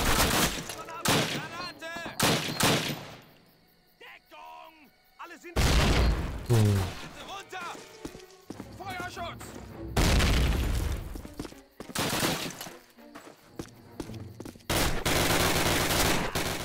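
Grenade blasts and bursts of gunfire from the video game Call of Duty, dense and loud, with rapid automatic fire and heavy booms broken by short lulls, and someone talking over parts of the barrage.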